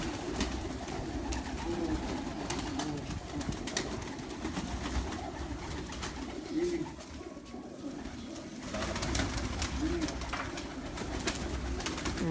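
Pigeons on a rooftop loft coo in low bursts half-buried under steady broadband noise, fairly faint and close, with no talk.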